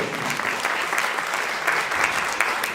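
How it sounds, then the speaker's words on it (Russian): Steady, dense applause from an audience filling a hall at a university faculty day celebration, continuous and fairly loud throughout with no pauses. "Аплодисменты"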